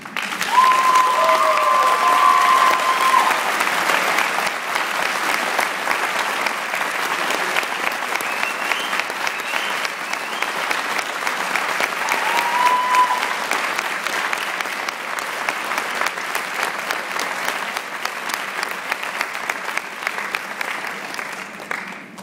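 A commencement audience gives teachers a long, sustained round of applause, dense and steady clapping filling the hall from start to finish without a break.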